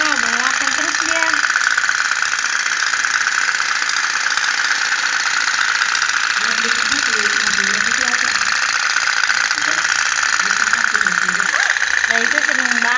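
A toy pop-pop boat (kapal otok-otok) putters with a continuous rapid buzzing drone, loud and close, while voices talk over it throughout.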